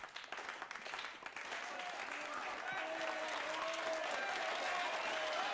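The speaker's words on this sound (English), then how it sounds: "Hey, the slow clap." In a Doctor Who episode, a slow clap starts with a few distinct, spaced claps, then swells into dense, sustained applause from a crowd, heard softly and at a distance.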